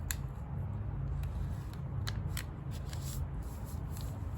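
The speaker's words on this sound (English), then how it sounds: "I usually like to try to grab it by the corner, fold it up so that the bottom edge aligns with this guideline" A sheet of paper being folded by hand along a center guideline, with soft crinkling and a few crisp creasing taps, close and quiet, with no voices.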